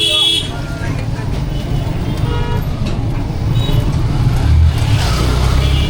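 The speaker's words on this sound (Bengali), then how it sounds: "ওই দেখো একটা ট্রাক" Dense traffic on a congested Bangladeshi road with a truck forcing its way through the middle, a steady low rumble of engines, scattered car horns tooting nearby, and people talking over it.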